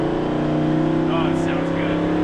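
A Ford Coyote V8 in a 1978 F250 with a Tremec 5-speed manual and Super Duty axles idles with a steady, loud, throbbing rumble, with a voice talking over it.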